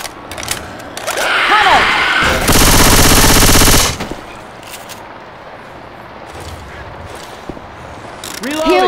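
Loud automatic gunfire from the video game Left 4 Dead 2 rips out in one sustained burst of about a second and a half, close and dominant, with quieter game sounds before and after.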